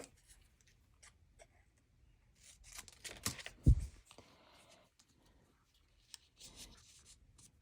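Paper scrap is trimmed for card making with quiet, sparse snips and rustles, one louder cut and handling noise in the middle, close up in a quiet room.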